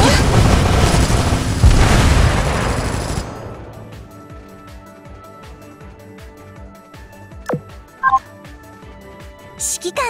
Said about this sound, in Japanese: 爆竹を鳴らさなきゃ。